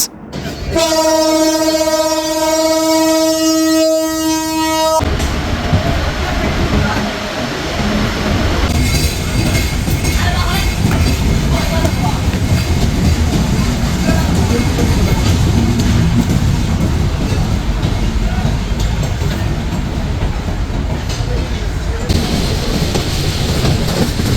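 The Silk City Express sounds a loud, sustained horn blast, then rumbles and clatters steadily and heavily as it crosses the Bangabandhu Bridge in Bangladesh.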